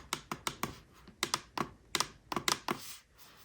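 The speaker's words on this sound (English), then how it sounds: "While clicking, there is a lot of creaking." A laptop trackpad with a hollow-feeling, creaky case gets clicked about a dozen times in quick, uneven bursts, each click sharp and close with a faint creak behind it, and no voices.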